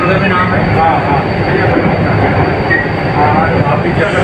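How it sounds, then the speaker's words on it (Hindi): A Jaipur Metro train rides along with a loud, steady rumble and rattle of wheels on rails, heard from inside the carriage. The noise is constant throughout and a voice is faintly mixed in. "हाँ आप भी जयपुर मेट्रो की सफर कर रहे हैं"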